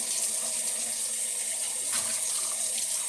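Very hot water runs from a kitchen tap while rice is being prepared, giving a steady, close, hissing splash that continues unbroken throughout, with no talk over it.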